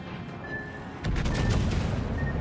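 Naval gunfire from a warship in World of Warships erupts about one second in as a loud, dense burst of overlapping booms, with rumbling blasts continuing over a steady low battle background.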